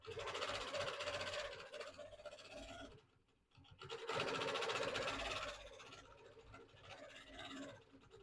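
A longarm quilting machine runs in stitching bursts across a T-shirt quilt, a whirring, scratchy rattle that pauses briefly midway and then resumes more softly, heard up close.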